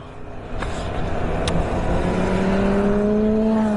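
A Yamaha MT-07 motorcycle is ridden on the road near Marne-la-Vallée. Its engine revs up steadily and rises in pitch over a rushing wind and road noise, close and fairly loud, with no talk.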